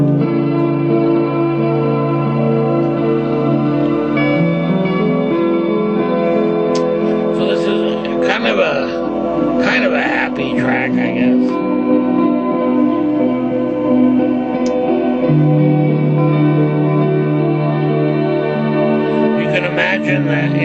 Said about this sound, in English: I layered this kind of a reverb guitar way in the distance